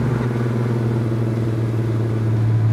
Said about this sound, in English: this car drives really good.